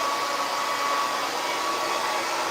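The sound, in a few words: hair dryer with diffuser comb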